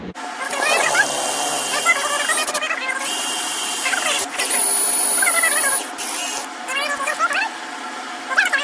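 A handheld drill with a sharp bit bores into a part on a Yamaha V-Star 1100 motorcycle while a MaxAir Predator Pro kit is fitted. The close, continuous high whine shifts in pitch as pressure changes.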